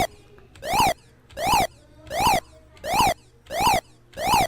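A synthetic siren effect from a Tandy Color Computer program sweeps up and down in six identical rising-and-falling bursts, loud and evenly spaced with short quiet gaps between them.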